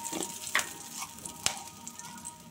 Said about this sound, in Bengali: আর অল্প একটু জিরে ফোড়ন দিলাম